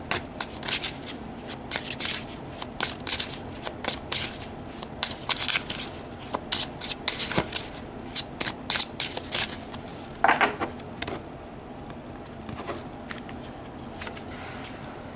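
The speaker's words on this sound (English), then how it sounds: "So let's pull one final card for you guys as advice for your" Tarot cards are shuffled by hand in repeated quick riffling bursts with short pauses between them, close and crisp, continuing for the whole stretch with no one talking.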